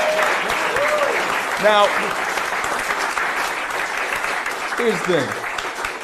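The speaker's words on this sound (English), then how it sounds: "Man, give Kim a round of applause." An audience applauds for Kim in a steady, fairly loud wash of clapping that runs the whole stretch, with a voice briefly talking over it.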